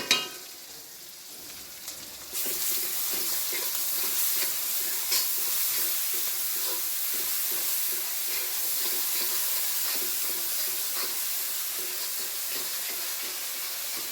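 Garlic tossed into onions and chilies already frying in a pan for a spicy hilsa and ash gourd curry, giving a sudden jump to a steady, loud sizzle with scraping stirs, close and without talk.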